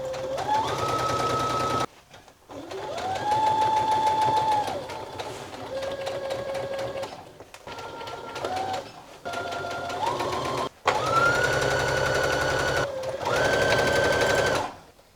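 A sewing machine stitching a crotch seam on a garment, running in several sustained bursts with a steady mechanical whir that rises and falls in speed, separated by brief pauses, close and loud.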